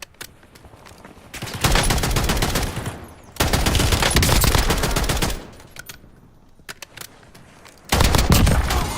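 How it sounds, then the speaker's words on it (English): Rapid automatic gunfire in a shooter video game, loud, dense bursts of a few seconds each, broken by short quieter gaps and a few isolated shots. "Oh, I'm getting shot at."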